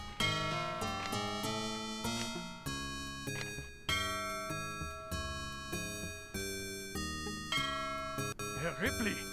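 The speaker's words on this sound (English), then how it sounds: "Herr Ripley, the bell." A bell rings repeatedly in the MS-DOS adventure game Ripley's Believe It or Not!: The Riddle of Master Lu, bright struck tones sounding in a steady series of strikes, each decaying before the next, loud and close.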